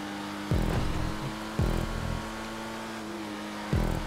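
Engine of a Pariah supercar racing in GTA 5, a steady loud hum that drops and jumps back three times as the car shifts gears, near and continuous with no talk.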